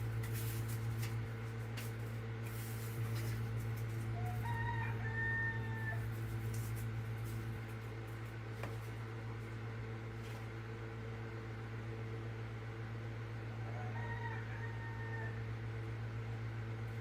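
Chickens cluck and a rooster crows twice at a middle distance over a loud, steady electrical hum.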